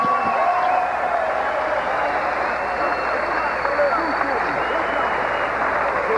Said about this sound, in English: let's have a nice round of applause for both of these fighters